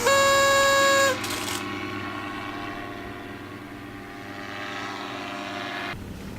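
A paramotor's engine and propeller roar loudly and steadily during a reverse-launch takeoff, a harsh droning tone that drops and eases slightly after the first second, then holds at a sustained, near level.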